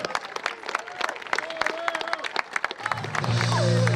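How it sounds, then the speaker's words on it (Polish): Crowd applause and cheering at the trophy ceremony of the Czaruś Cup 2011 football tournament in Lubasz, with voices shouting over it and the noise swelling louder near the end. "Wielkie brawa!"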